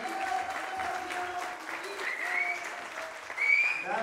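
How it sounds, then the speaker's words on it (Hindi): Applause from an audience at a poster launch event as a guest is called to the stage, moderately faint continuous clapping with scattered voices and a brief swell near the end. "शानू जी के जोरदार तालियां"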